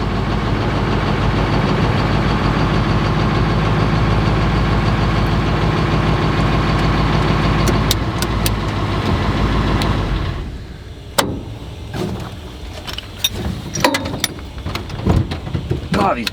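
Engine of an old, very heavy hearse idling with a steady, deep rumbling chug for about ten seconds, close and loud, then cutting off into quieter clicks and knocks.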